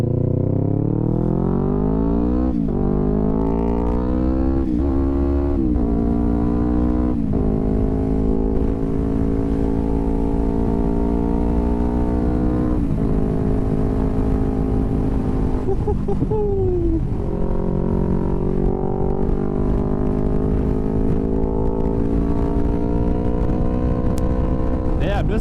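A motorcycle engine revs hard and high while riding, its loud whining tone climbing through gears in repeated rising sweeps, with a voice talking over the close, constant engine roar.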